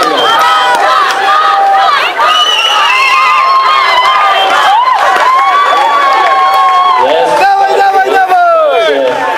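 Spectators at a team vineyard-festival running race shout and cheer the runners on, a dense, loud, continuous crowd of excited voices with high calls and whoops throughout.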